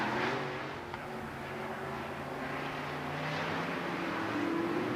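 Race cars roar back to green on a restart at Lernerville Speedway, a dirt track, making a distant, continuous engine drone that swells toward the end.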